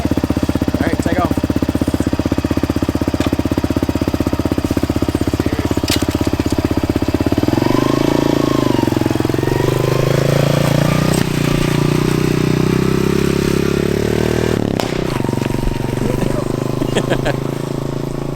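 A Honda CRF125F dirt bike fitted with an FMF exhaust, revving loudly and close with a buzzy, throbbing engine note that rises and falls as it pulls away, continuous throughout.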